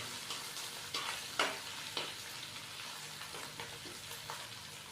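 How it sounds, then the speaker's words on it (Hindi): Ginger, garlic and green chili paste fries in a pan for chicken roast pulao, giving a steady close sizzle broken by several sharp scraping stir strokes, with no voices. "अदरक लहसुन और सब्ज मिर्च के पेस्ट को हल्का सा फ्राई करने के बाद"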